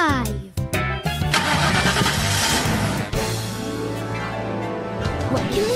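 A cartoon car engine cranks with a few sputtering bursts, catches and settles into a steady revving hum as it pulls away, with people talking over it.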